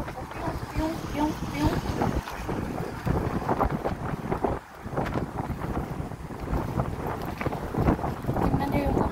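Gusty, strong wind roars continuously outdoors in dusty conditions, battering the microphone with a loud broadband rush that dips briefly midway, while people speak over it.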